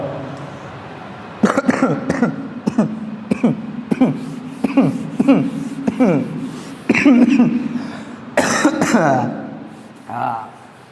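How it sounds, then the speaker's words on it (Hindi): A person coughs repeatedly in sharp, rhythmic bursts, close up, with throat clearing mixed in over a low steady hum. "बहुत कोशिश किया लेकिन खांसी नहीं रुका"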